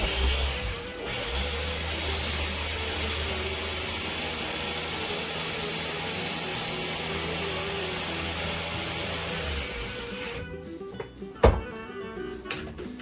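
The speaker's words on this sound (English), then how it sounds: "you're just going to puree it for it's so easy, it's so tender, it's going to puree really quick." An electric blender purees tender cooked pumpkin in a steady, loud, continuous motor whir for about ten seconds, then cuts off, followed by a few brief clunks and knocks.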